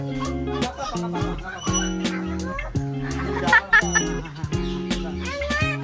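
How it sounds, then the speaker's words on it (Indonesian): Ducks at a safari park calling in short, fowl-like bursts, close by and mixed in with steady chatter from family members and children's voices. "Oh iya, bebek benar."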